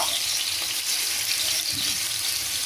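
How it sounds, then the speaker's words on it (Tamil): Fish fries in oil in a pan with a continuous, even sizzle and light crackle, close and steady throughout with no talk. "எண்ணெய் விட்டு நல்லா இதை ஃப்ரை பண்ணிப்போம்."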